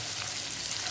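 Finely chopped onion frying in a pan for potato 65, a steady close hissing sizzle filling the moment alone with no talk.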